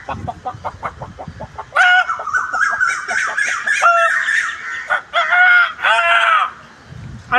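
A person mimics a rooster, starting with a quick run of clucks that builds into loud, drawn-out crowing calls, close and clear.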